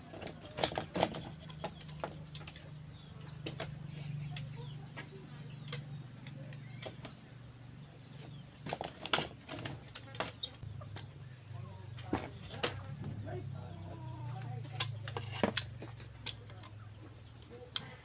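Chickens clucking softly at a home in a rural setting, low and fairly faint with a steady background hum, broken by scattered sharp knocks and clatter, with people chatting nearby.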